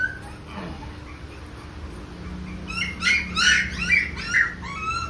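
A Labrador puppy gives a run of short, high yelps and squeaky whines, several in quick succession, close by against a faint low hum.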